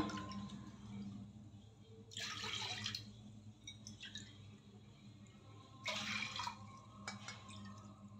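Water splashes into a pressure cooker for rice kheer, poured in two separate bursts a few seconds apart, faint and close, with a quiet hum in between and no talking.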